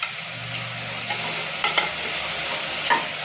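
Tomato, onion and brinjal sautéing in a pan give a steady close sizzle, broken by a few sharp scrapes and taps of a spoon stirring the vegetables.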